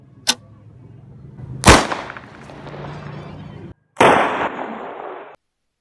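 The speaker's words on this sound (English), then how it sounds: "I thought my rocket motor would work just fine, but it exploded." Sharp bangs and loud bursting blasts outdoors as a rocket motor explodes, one small pop then two big explosive whooshes with crackling tails, separated by brief quiet.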